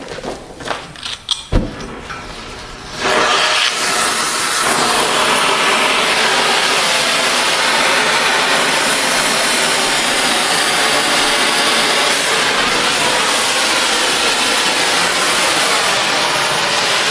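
A power tool grinds through a steel rail anvil on its final cut, starting after a few clanks and handling noises, then running as a steady, loud, unbroken cutting roar for the rest of the span.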